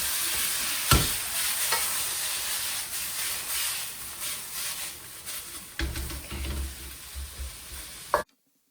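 Beef chow fun tossed and frying in a hot pan, with a steady close sizzle and hiss and several scraping, clattering tosses before it cuts off abruptly; no one speaks.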